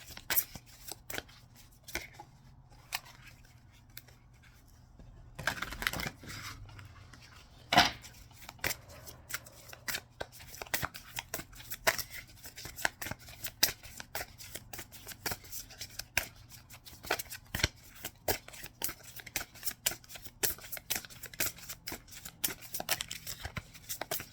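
Repeated riffling and soft slaps of tarot cards being shuffled, a long run of crisp, rapid flutters with brief pauses, close and fairly quiet, no talking.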